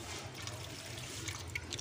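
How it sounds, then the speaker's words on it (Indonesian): Liquid NPK fertilizer is poured from a container onto grape seedlings, a soft, steady trickling and splashing of water that runs without pause. "Kemudian kita siram pakai pupuk NPK."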